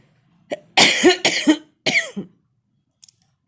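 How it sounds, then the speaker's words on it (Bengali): A person coughs three times in quick succession after a short throat sound, close and fairly loud, followed by a faint click; no speech. "এমন সময় পিছন হইতে কে যেন কাশিয়া উঠিল"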